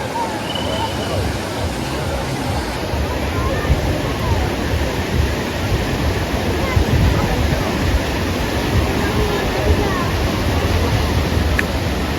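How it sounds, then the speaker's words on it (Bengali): Sea surf breaks at Digha beach in West Bengal, a loud, steady roar of crashing and washing waves close by, with a faint murmur of voices underneath. "ঢেউটা এইখানেই বেশি হয়"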